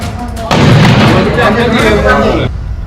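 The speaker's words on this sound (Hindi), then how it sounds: "ट्रक में पहले छोटे धमाके हुए और फिर एक जोरदार धमाका हुआ" A truck loaded with ammunition explodes: a loud, sustained explosive roar bursts out and rumbles for about two seconds, then cuts off abruptly.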